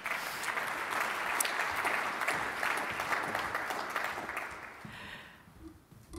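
Steady applause from a conference audience at a Baden-Württemberg health forum, sustained for several seconds before tapering off near the end.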